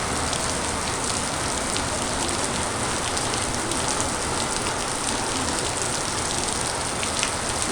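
A heavy downpour pounds down in a dense, unbroken roar of rain on surfaces, loud and steady throughout, with no voices.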